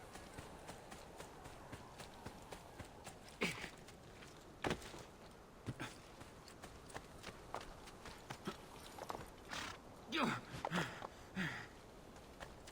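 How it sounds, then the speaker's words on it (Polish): A horse in Assassin's Creed trots along with irregular clip-clop hoof steps and scattered footfall thumps, faint and steady throughout, with a few louder hits near the end. "no jest koń"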